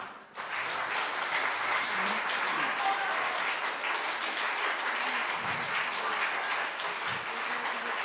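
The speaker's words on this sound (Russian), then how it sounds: "Ну и огромные аплодисменты нашим солистам." Sustained audience applause for concert soloists, dense steady clapping from a large hall crowd that swells in quickly and holds for several seconds at moderate distance.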